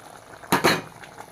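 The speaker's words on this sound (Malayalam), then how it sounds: "നന്നായി കറിയൊക്കെ നന്നായിട്ട് തിളച്ചിട്ട് കുറുകി വന്നിട്ടുണ്ട്" Coconut fish curry boiling in a pot gives two quick, loud bubbling bursts close up, then settles back to a faint simmer.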